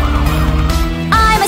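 Police car siren in a children's song, loud and close, its rising and falling wail mixed with music and sung voices.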